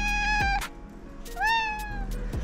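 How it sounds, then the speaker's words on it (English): A neighbor's cat meows twice inside a home garage, close and loud, each call drawn out with a rising then falling pitch, with small knocks and shuffles between. "Apparently, I got a neighbor's cat wanting to go on the shelf."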